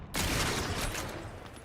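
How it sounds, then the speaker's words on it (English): A slow-firing, hard-hitting weapon fires in The Outer Worlds 2, producing a loud, heavy burst with a rough, noisy tail that fades over about a second. "Oh, that is a slow-firing weapon."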